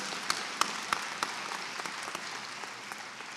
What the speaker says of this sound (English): Somebody ought to clap for that.